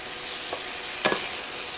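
Sausage fries in a skillet with a steady close sizzle, broken by a couple of brief scraping stirs of the pan.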